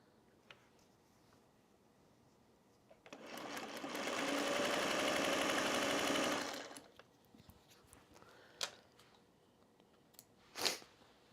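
A sewing machine stitches a bat-in-the-sky Halloween quilt block in one steady whirring run of about four seconds, close and loud, then stops, followed by a few faint clicks and handling sounds.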